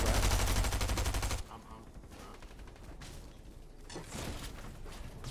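Heavy video game gunfire bursts loudly at the start, then lighter scattered shots and whooshes continue beneath excited player voices.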